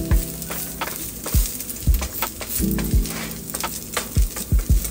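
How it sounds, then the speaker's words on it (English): Potatoes frying in neutral oil in a hot nonstick pan, a steady close sizzle with several soft thumps and scrapes as they are pressed down and seasoned, no voices. "Once it gets hot, I add about 2 tablespoons of neutral oil and then the potatoes go in"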